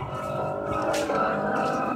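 A Mazda Miata drifts on a track at Thompson, its tires skidding in a loud, sustained squeal over the engine, close by.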